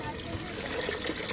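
A steady stream of water pours into a pot and splashes continuously for a moment, close and moderately loud.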